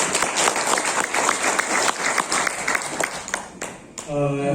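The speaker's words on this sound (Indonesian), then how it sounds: "Minta tepuk tangan untuk Dinas Kominfo." An audience in a hotel function room applauds for the Pasuruan district communications office at a photography training session, dense clapping running steadily for about four seconds before a bright tonal chime and voices take over at the end.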